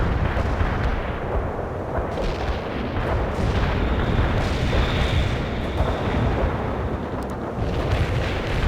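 Artillery barrage explosions in World in Conflict, a dense, continuous roll of overlapping booms and blasts that stays loud and steady throughout, with no talking.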